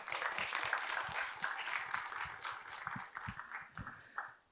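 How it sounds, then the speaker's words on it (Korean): Audience applause of thanks for a professor who chaired a UST policy forum session, a sustained, fairly distant patter of many hands that thins out toward the end. "저희 최희윤 교수님께도 다시 한번 감사의 박수 부탁드립니다"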